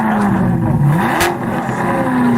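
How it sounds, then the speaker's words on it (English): A car fitted with a brand new exhaust revs up loudly at close range, the engine note rising, dipping and climbing again over about two and a half seconds, with no talk. "I put on a brand new exhaust."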